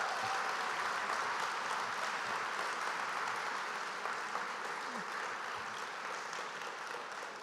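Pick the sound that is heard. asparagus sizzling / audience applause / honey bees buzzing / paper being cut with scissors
audience applause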